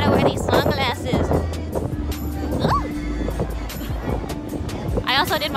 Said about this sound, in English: Ugh. I also did my hair for nothing because look at this wind.